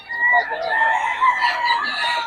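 A gamefowl rooster of the Lemon Sweater bloodline gives a single full crow at close range, with a voice faintly underneath.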